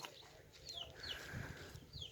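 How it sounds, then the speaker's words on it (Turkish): Chickens and chicks on a farm cluck and peep in short, high chirping calls scattered through a soft, steady background, moderately near and without talk. "Tavuk, cibi, ördek."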